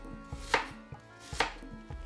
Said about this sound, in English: Let's cut on around the edge of the apple like this.